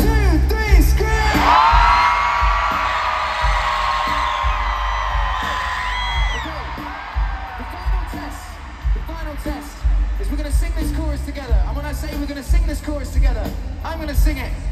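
A huge stadium concert crowd at Gillette Stadium in Foxboro erupts into a loud, sustained scream that swells and then slowly fades into scattered cheers and yells, with talk over amplified sound following.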